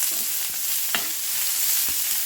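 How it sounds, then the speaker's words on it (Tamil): Onion, green chili and curry leaves sauté in hot oil in a pan with a constant loud sizzle and a few soft stirring scrapes, and no voices. "நாம் வெங்காயம், பச்சை மிளகாய், கருவேப்பிலை போட்டுடலாங்க. வதக்கிக்கலாம்."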